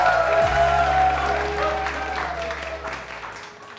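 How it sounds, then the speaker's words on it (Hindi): Studio audience applause on a television morning show, moderately loud at first and gradually fading, over a low steady hum from music or studio sound. "सामिया के लिए बहुत ज्यादा ताली।"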